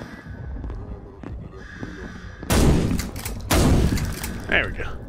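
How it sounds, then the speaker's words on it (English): Video game gunfire, two loud, sharp bursts a second apart cutting through quieter background game sounds, followed by a shorter, fainter report. "I heard gunshots."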